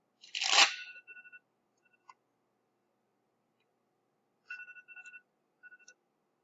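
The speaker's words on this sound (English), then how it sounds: "That's an alarm telling me." An electronic alarm goes off in short, faint bursts of paired beeping tones, repeating a few times with pauses between, after a brief crunchy knock at the start; no one talks.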